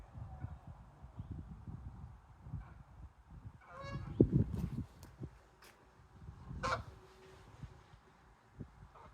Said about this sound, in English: Geesey geese.